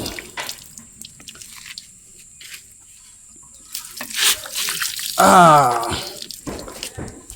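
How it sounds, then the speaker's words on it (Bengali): Water gushes from a hand pump over two jujube fruits being washed outdoors, with splashing and trickling that grows louder near the end and a creaking squeal from the pump handle, plus some faint background voices. "এই টিপকল থেকে আগে সবরি দুটো ধুয়ে নেই তারপর খামো"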